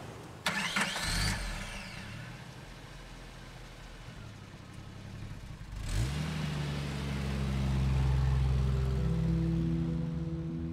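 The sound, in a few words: Mitsubishi car engine starting and driving off, audio drama effect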